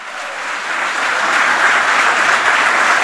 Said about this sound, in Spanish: ¿Cuántos aplauden al Señor?